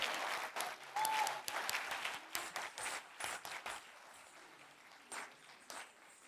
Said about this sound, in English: So a big round of applause for their dedication and support.